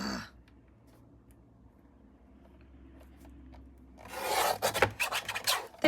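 After a quiet stretch, a paper trimmer slices off a thin sliver with a short run of scraping, rasping strokes, close and fairly loud, ending in a sharp final snap.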